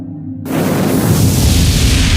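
A fantasy energy-aura explosion erupts after a brief silence into a loud, sustained booming roar dominated by heavy low rumble, with no voices.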